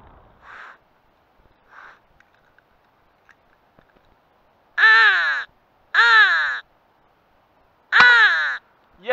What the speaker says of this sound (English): There's certainly some crows over there.